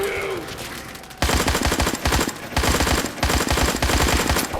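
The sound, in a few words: gun firing with heavy recoil in a video game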